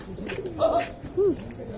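Pigeons cooing close by, with two short coos standing out over someone speaking casually throughout.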